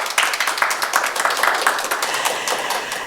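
Audience applause at a Korean baduk 80th-anniversary panel talk: a dense, steady wash of many hands clapping that continues for about three seconds without pause.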